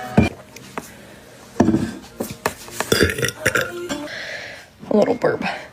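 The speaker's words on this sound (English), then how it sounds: "A little burp" A woman lets out a small burp amid breathy sounds and some speech, with a few short throaty bursts close to the microphone.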